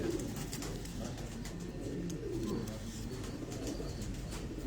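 A pigeon on a rooftop coos softly in low, rolling phrases, faint against a steady outdoor hum, with no voices present.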